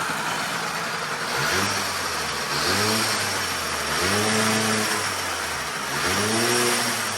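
A Yamahopper minibike fitted with nitrous is revved to full throttle in four surging bursts, the small engine note climbing and falling back between each one, fairly close and with no voices.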